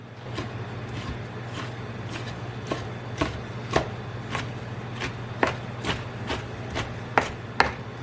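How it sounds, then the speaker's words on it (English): A knife chops garlic and seasoning on a cutting board while a pan pizza is being made: a series of crisp, fairly faint chops at an uneven pace, some louder than others, over a low steady hum. "I just want to run my knife through here."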